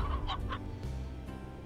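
Hens in the video game Slime Rancher clucking a few times in quick bursts at the start, followed by a steady game background hum.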